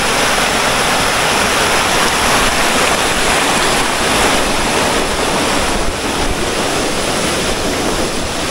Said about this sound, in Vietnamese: trên này nước chảy rất là to.